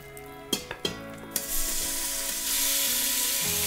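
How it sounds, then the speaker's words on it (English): Chicken pieces sizzle as they brown in a little oil inside an Instant Pot with an Ultimate Lid, opening with a few sharp clinks and pops, then settling into a steady close, loud frying hiss. "I'm able to brown the chicken, lock in all that juiciness"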